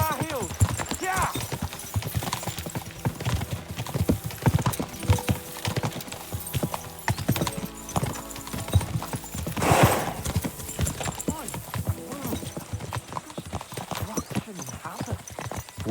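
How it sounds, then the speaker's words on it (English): Horses galloping in Kingdom Come Deliverance II, a steady rapid clip-clop of hooves on the ground with an occasional whinny, continuous throughout, mixed with movement and ambient game sound. "We should spur the horses on."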